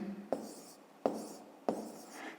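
Pen or chalk writing numbers for a fifth-grade division problem, three distinct scratchy strokes spaced about a second apart, quiet and close.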